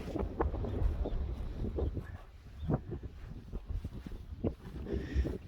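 Steady wind gusting across an outdoor microphone, a low rumbling roar with a few brief bumps and swells.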